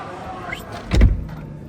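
A Xiaomi SU7 car door pulls shut with its soft-close mechanism, giving one short, muffled thud close by with a faint whirring draw-in around it.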